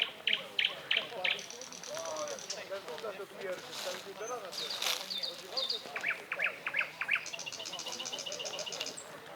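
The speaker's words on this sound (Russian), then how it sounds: "Соловей." A nightingale singing at night, clear repeated whistles and trills in varied phrases, fairly near against a background of other birds and a faint voice talking under it.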